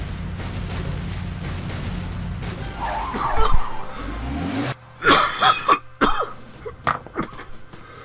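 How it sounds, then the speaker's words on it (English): Several harsh, ragged coughs in quick succession, close and loud, following a stretch of rumbling engine-like noise, in the adventure game Sam & Max episode Abe Lincoln Must Die. "The coughing is not pretty,"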